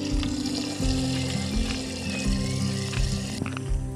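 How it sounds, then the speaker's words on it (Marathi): Coconut water pours into a homemade biofertilizer mix of milk, curd, banana and camphor, making a steady, close splashing trickle that lasts the whole short moment with no speech. "यात नारळाचे पाणी टाकत आहोत."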